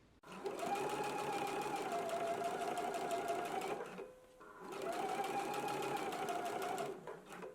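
A sewing machine stitches the sleeve binding of a McCall's 7969 pullover dress in two steady, loud bursts of rapid whirring, with a short pause between them.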